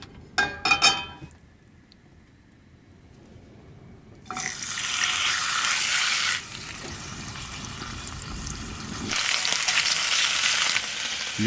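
Marinated pork belly fries in a pan at a desert campsite, a faint sizzle that jumps to loud hissing bursts with brief quieter stretches between.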